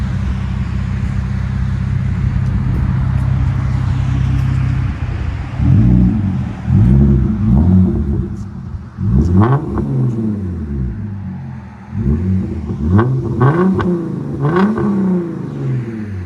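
A 2016 Hyundai Genesis Coupe 3.8L V6 with muffler delete idles with a low steady drone, then is revved in a series of sharp, deep exhaust bursts rising and falling at close range.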